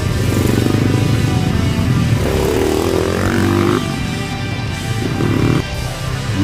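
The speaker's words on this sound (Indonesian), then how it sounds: "Sejenak pun kami harus beristirahat karena jalur kami dilalui juga teman-teman motor cross, John." Motocross motorcycles on a mountain trail on the slopes of Mount Welirang, engines revving loud and close with a shifting, rising and falling whine as the bikes pass, with no talk.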